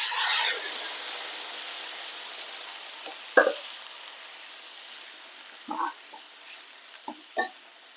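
Churned ridge gourd mixture poured into a hot pan, giving a soft, faint sizzle with a few brief stirring scrapes and clinks.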